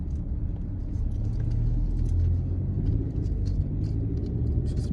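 A van idles and rolls slowly up to a gas station pump, its engine a steady low rumble that stays close and even throughout, with a few faint clinks on top.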